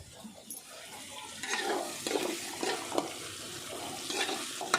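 Masala being stirred into a pot of village-style country chicken curry, with a spoon scraping and stirring in irregular strokes over a steady low sizzle, close and moderately loud, no talking.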